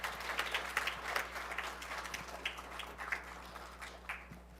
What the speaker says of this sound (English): Let's go ahead and give her a nice warm round of applause.